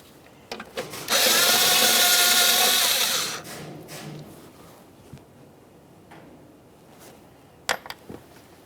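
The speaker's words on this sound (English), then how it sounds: "We'll remove our 10mm mounting bolt." A power tool whirs for about two seconds, loosening a 10mm mounting bolt on a bracket of a 2012-2018 Nissan Maxima 3.5L V6 intake, framed by a few faint clicks and taps of handling before and after.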